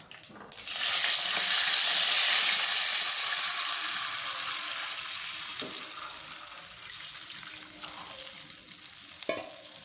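Tamarind water poured into a hot pan of toor dal and curry leaf curry hits with a loud sudden sizzle that peaks, then gradually fades to a steady bubbling hiss.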